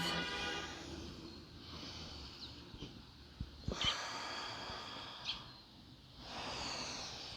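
Deep, slow breaths drawn in and let out during a yoga child's pose, soft and close, with a few sharper nasal snort-like exhales between the longer airy breaths.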